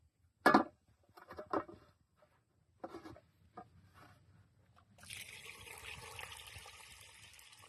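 Hot water poured off a pot of cooked beets outdoors, a few brief splashes and clatters early, then a steady broadband rush of draining water over the last few seconds, fairly close.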